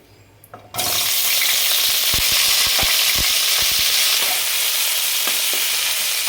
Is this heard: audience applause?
no